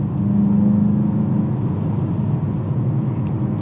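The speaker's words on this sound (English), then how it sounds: "The RPMs start to go up quickly. You hit that power band." A turbocharged 2019 Volkswagen Jetta GLI with direct injection pulls hard under acceleration, a loud, steady engine drone and whir heard from inside the cabin for a few seconds.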